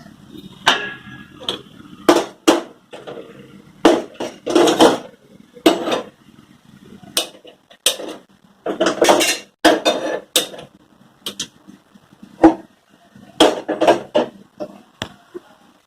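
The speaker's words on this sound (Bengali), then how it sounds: "এখানে তাওয়াটা বসাই" Pots and pans clatter in a home kitchen as a tawa griddle is set on the stove: a long run of sharp metallic clanks and knocks in irregular bursts, close and fairly loud.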